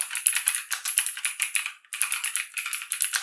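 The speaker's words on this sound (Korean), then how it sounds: "이런 식으로 타이핑을 하게 되죠" Rapid clacking keystrokes of a mechanical typewriter, rattling bursts in quick uneven rhythm with a brief pause midway, close and crisp.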